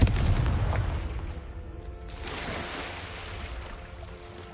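Confringo blasting spell detonating in Hogwarts Legacy, a heavy booming explosion up front that rumbles and decays, followed by a second rolling blast and a long fading tail.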